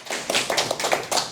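Brief, scattered clapping from an audience welcoming a professor to speak at an academic colloquium on Jeju island history, a short ripple of hands with no talk over it.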